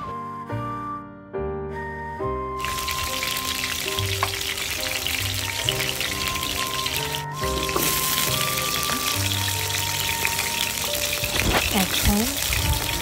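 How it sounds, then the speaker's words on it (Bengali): Five-spice seeds, a cinnamon piece, chopped ginger and green chillies hit hot oil in a wok, giving a loud, continuous close sizzle and spatter with some stirring, while background music plays underneath. "কড়াইয়ে তেল গরম করে তাতে পাঁচ ফোড়ন, দারচিনির টুকরোটি, আদা কুচি এবং কাঁচা লঙ্কা দিয়ে সামান্য ভেজে নেব।"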